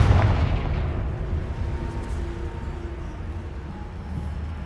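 A Confringo spell explosion in Hogwarts Legacy: a loud, deep blast right at the start that decays into a long, broad rumble of debris and crackle, with no voices.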